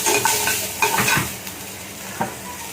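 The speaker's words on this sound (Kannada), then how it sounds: "ಇದನ್ನು ಕೆಂಪು ಕಲರ್ ಬರೋಗಂಟ ಹುರ್ಕೋಬೇಕು" Ingredients for a jeera rice and chicken curry sizzle in hot oil in a pan while being stirred, with scraping strokes around half a second and one second and a last clink near the end, close up with no talk.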